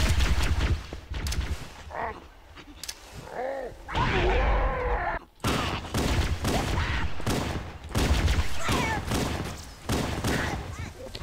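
Rapid gunshots in Halo: Combat Evolved, from a plasma pistol and a standard pistol, come in short clustered volleys with whooshing energy sounds between them, loud and near, while a voice talks over the firing.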